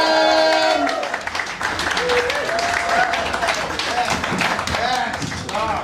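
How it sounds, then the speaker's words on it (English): Loud, continuous applause from an audience at a comedy show fills the room, with a voice speaking over it at the start. "let's keep that applause going as well"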